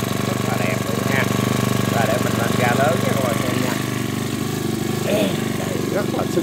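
Robin 427 four-stroke grass trimmer running at a steady idle, a constant buzzing engine drone close by while people talk over it intermittently.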